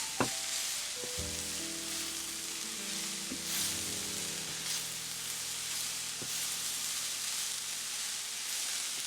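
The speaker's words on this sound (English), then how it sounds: "And I have the heat on medium low. Spinach is halfway cooked" Spinach cooking down in a pan over medium-low heat for Persian nargesi, giving a steady, close sizzle and hiss throughout with a few soft stirring clinks and scrapes.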